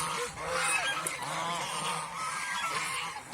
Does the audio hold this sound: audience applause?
no